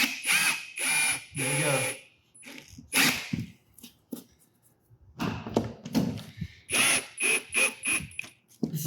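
Screws being driven into a plywood subfloor patch with a power drill, several short bursts of whirring and ratcheting separated by pauses, close and loud, with a brief spoken remark near the end.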